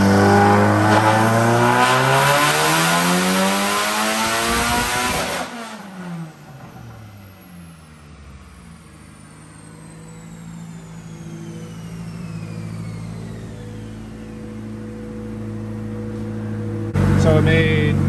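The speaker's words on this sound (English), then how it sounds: "The car sounds sick." A turbocharged Nissan SR20DET engine with a Garrett G25-550 turbo revs hard on a dyno for several seconds, then drops off and winds down, with a turbo whine fading and a brief roar returning at the end.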